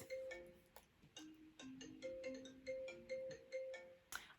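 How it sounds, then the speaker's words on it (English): A phone ringtone sounds for an incoming call: a bright, melodic electronic tune of repeating short notes, loud and close, with no talking over it. "Sorry about that, getting a phone call."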